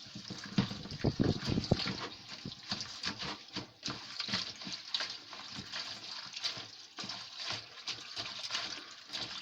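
Tap water running over freshly picked blood leaf plants during a third rinse, a splashing, gurgling flow with irregular bursts, close and moderately quiet.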